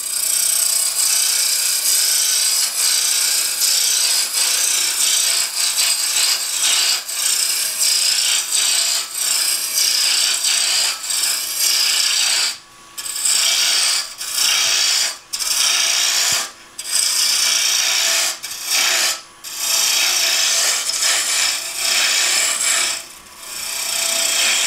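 A wooden finial is roughed down on a lathe spinning around 1800 rpm, the gouge producing a loud, continuous rasping cut that stops briefly several times in the second half before resuming.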